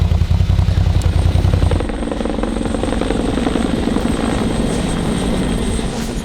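Steady, loud police helicopter rotor thrum fills the whole stretch, a continuous chopping drone with no voices.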